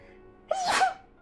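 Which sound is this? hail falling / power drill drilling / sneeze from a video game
sneeze from a video game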